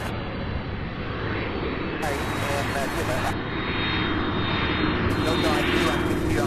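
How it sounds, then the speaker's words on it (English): A heavy cargo jet lands at Louisville International Airport, its engine roar loud and steady throughout, with reverse-thrust rumble swelling near the end while people talk over it. "What a beautiful landing."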